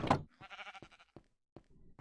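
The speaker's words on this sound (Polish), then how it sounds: "Owco, idź sobie stąd." Sheep bleating in the Minecraft video game, a short wavering bleat followed by a few brief thunks and a second quieter bleat, close and clear with no talk over it.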